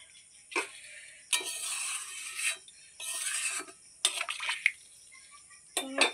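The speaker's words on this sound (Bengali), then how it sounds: "দেখো অল্প করে জল দিয়ে দিলাম।" Water poured into a pan of spicy pangas fish curry, several short bursts of splashing and pouring close by, separated by quiet gaps, with light clinks of a pan or utensil.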